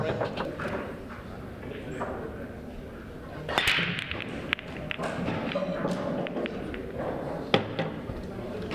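A break shot in professional pool: sharp cracks of balls colliding at the break, then scattered clicks and knocks as they roll on the table, under a commentator's low talk.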